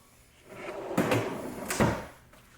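A homemade wooden drawer built from scrap lumber slides open and shut in a workshop, two distinct rumbling slides with knocks at each stop, close and fairly loud.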